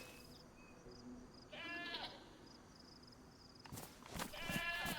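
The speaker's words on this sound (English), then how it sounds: "I thought I heard a zombie, but it was just one of the goats over here." Goats in the video game DayZ bleat in short wavering calls, one early and a louder pair near the end, against a quiet outdoor ambience with faint background noise.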